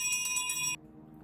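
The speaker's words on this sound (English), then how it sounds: "And that's when she hears the sound of the bell," A bell rings in a scary story, a bright, close, rapid jingling ring with several quick strikes that stops abruptly under a second in, leaving a faint low hum.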